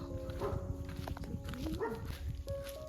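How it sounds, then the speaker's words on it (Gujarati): A dog barks a few times at the cowshed of a green rural property in the Gir area during rain, its short yelps set against steady rain and outdoor background noise. "કૂતરો ભસવા મળ્યો"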